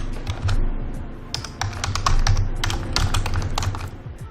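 Rapid clicking on a computer keyboard, close and fairly loud, with fast clustered keystrokes in short bursts and brief gaps, no voices.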